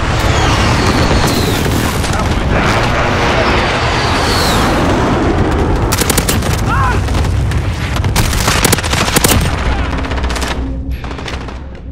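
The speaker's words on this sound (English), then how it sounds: "Cluster strike is go for friendly airstrike." Cluster airstrike explosions in a video game, a loud continuous barrage of booms and rapid blasts with sharp cracks through the later part, mixed with gunfire and voices.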